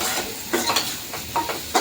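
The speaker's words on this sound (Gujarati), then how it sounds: "એને પણ થોડી વાર સાતળવા દઈશું." Finely chopped green onions sautéing in a pan for samosa filling, with a steady sizzle broken by several close, loud stirring scrapes in an uneven rhythm; no voices.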